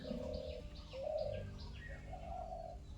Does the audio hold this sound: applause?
no